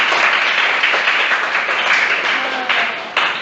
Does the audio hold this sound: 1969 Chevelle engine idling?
no